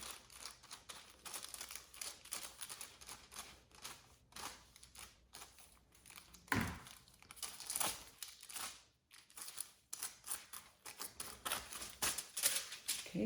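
Foil crinkling and rustling in close, irregular bursts as sheets are grabbed and folded during a blonde and brown highlighting job on medium-length hair, with a few sharper crackles midway.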